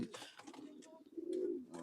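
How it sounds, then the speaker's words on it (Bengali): Khulna Tula pigeons, a pure Tula hen and a red-necked Tula cock, give a brief low coo close by, with faint voices around them. "এটা হচ্ছে আমাদের খুলনার বিখ্যাত সেই তুলা কবুতর"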